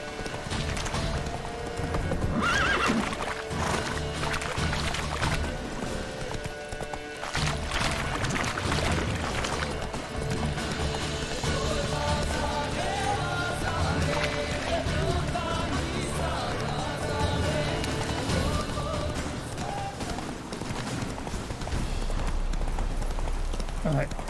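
Roach, a horse in the video game The Witcher 3, gallops with a steady clip-clop of hooves over continuous game music and ambience, fairly close and moderately loud.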